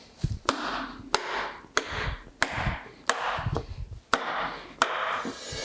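Sharp metallic hammer blows, about eight strikes at a steady pace, each ringing briefly, as tight cylinder liners are driven into a Ferguson 23c engine block close by.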